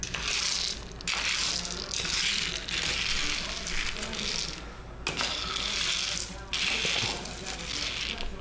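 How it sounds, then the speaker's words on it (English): A thick roasting pumpkin mash for bourbon is stirred in bursts of scraping and crunching strokes, with short pauses between them, close and moderately loud. "Let's give it a little bit of a stir."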